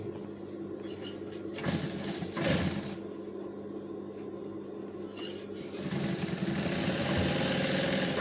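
A sewing machine stitches a trouser pocket in a steady mechanical whir, running continuously at close range with slight changes in speed and a few louder bursts, and no talking over it.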